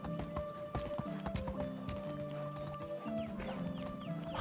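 Horse hooves clip-clopping in the medieval life-simulation game Medieval Dynasty, a steady run of hoofbeats over layered game ambience and background music, fairly close and continuous.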